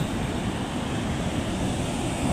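Large sea waves driven by Typhoon Kristine pound the shore at Calintaan, Occidental Mindoro, making a constant broad wash of surf and wind noise, even in level and moderately loud, with no talk.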